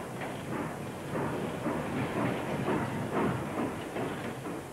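A vintage Australian steam train runs along the line in 1985, giving a steady, rumbling roar with rhythmic chuffing pulses, loud and continuous without voices.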